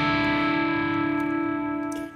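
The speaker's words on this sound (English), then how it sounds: "when you go like this, and the distortion is just right. Well, I've got some delay on there too" Electric guitar with distortion and delay holds a sustained chord with rich harmonics and a slight echoing tail, steady and loud before fading near the end.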